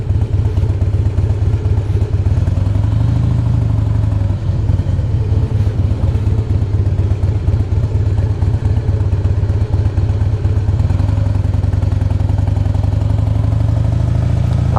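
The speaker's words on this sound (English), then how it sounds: "this is a really good running bike" A Harley Davidson Heritage Softail idles and runs with a steady, loud low rumble and mechanical clatter, continuous and close throughout.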